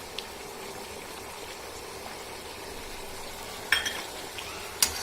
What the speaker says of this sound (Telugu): గరిటె సహాయంతో ఈ రకంగా కలపాలి